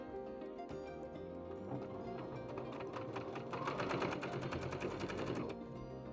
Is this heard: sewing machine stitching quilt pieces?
yes